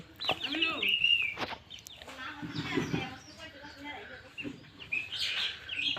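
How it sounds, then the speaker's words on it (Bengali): Young fighter-breed chicks cluck and peep in rapid bursts close by, mixed with higher chirping bird calls and some human talk in the background. "আমার ফাইটার মুরগির বাচ্চা এটা"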